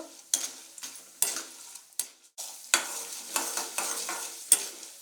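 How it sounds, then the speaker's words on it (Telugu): Tempering spices frying in groundnut oil for broken-rice upma, close crackling sizzle with repeated sharp spatula scrapes and stirring bursts at an uneven rhythm, alone without talk. "ఇవి కొంచెం క్రిస్పీగా వేగేంత వరకు ఫ్రై చేసుకోవాలి"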